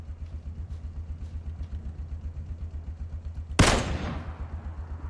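A single loud, close SCAR rifle shot in PUBG fires suddenly and rings out into a decaying tail, cutting through a steady rhythmic engine-like hum beneath it.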